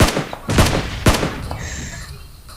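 Gunfire in PUBG Mobile aimed at the player: several sharp, loud shots in quick succession early on, then a lone later crack, ringing over a steady game background with no talk.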